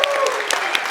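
A conference audience at the ADE Summit 2025 claps in a brief, dense burst of applause that fills a hall, with a few voices faintly mixed in.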